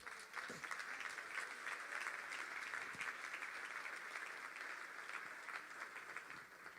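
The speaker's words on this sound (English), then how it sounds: "let's give them a round of applause" Steady crowd applause from an audience at a motivational talk for a volunteer coming up on stage, a dense even patter of clapping sustained for several seconds.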